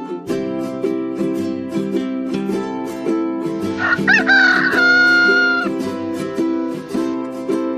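A hen clucks and a rooster crows over steady musical backing, the bird calls loud and close with a long crow in the middle.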